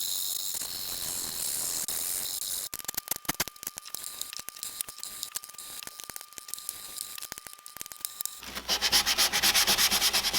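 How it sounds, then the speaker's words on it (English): Sandpaper rubbed back and forth to polish the frets on a handmade guitar, close rhythmic scratching strokes that speed up into a rougher, denser rasp near the end. "I used a sequence of sandpaper grits to polish all the frets"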